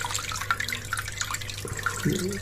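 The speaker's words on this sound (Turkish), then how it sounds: "şelale şeklinde tekrardan su çıkıyor" Water streams steadily from the waterfall-style outlet of an Eheim external aquarium filter, a continuous close splashing trickle with small drips and gurgles throughout.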